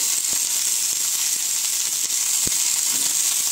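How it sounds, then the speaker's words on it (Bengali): Cauliflower frying in hot oil with garlic, onion and green chillies: a steady, close sizzle and hiss throughout, with a few faint pops and a soft knock. "সেই সাথে দেখো, এই যে রসুন, পেঁয়াজ, কাঁচা লঙ্কা, এগুলোও আমি একসঙ্গে সব ভেজে নেব।"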